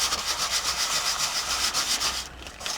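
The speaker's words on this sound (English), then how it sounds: "it all gets sanded down and it just blends seamlessly into the page" Sandpaper rubbing across a decorated journal page, a close, steady back-and-forth rasping scratch in rhythmic strokes that eases off briefly near the end.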